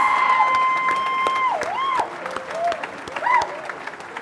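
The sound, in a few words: applause and cheering for graduating class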